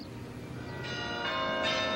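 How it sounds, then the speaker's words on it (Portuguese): Church bells of the Mafra carillon, among the largest carillons with 92 bells: several bell strikes ring out with long, overlapping resonant tones that build and sustain steadily. "o maior carrilhão do mundo com 92 sinos"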